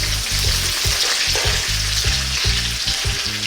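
Fresh pandan and curry leaves frying hard in a hot pan over above-medium heat, a loud, dense, continuous sizzle and crackle, close up, with a low rumble underneath.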